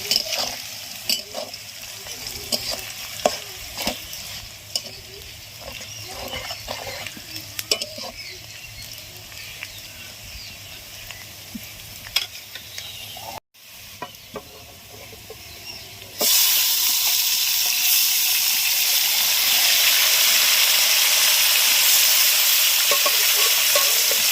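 Spiced turkey meat dropped into a pan over a wood fire, crackling and sizzling with frequent stirring clatter, then a sudden loud, steady hiss of frying that fills the rest.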